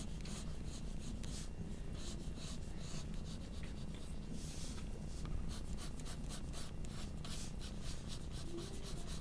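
A pencil sketches and shades on paper in repeated short strokes, a soft scratchy rubbing rhythm heard close but faint, with no voices.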